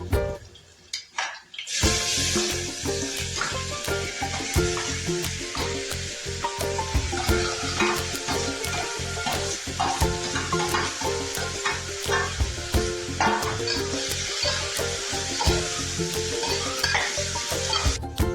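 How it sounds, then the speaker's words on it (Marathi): Vegetables stir-fry in hot oil with garlic paste for khichdi, a dense continuous sizzle with rhythmic spatula scraping against the pan, loud and close, with no talking. "तेल सुटेपर्यंत कलसून घेऊया."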